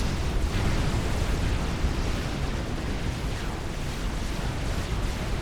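Seraphim torpedo bombers attacking destroyers in the real-time strategy game Supreme Commander, producing a dense, continuous roar of overlapping explosions and rumbling booms with no clear gaps.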